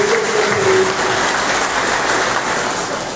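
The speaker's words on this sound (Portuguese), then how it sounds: "Receba a salva de palmas" Audience applause at a union forum in Campo Grande, a steady, dense wash of many hands clapping, loud and close, with a brief tonal sound near the start and no talk.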